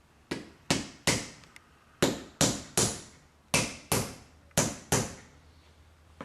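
Hammer strikes driving nails into a wooden pencil box during assembly: about a dozen sharp, close, loud taps in uneven pairs and runs, each ringing briefly before the next blow, with no voices.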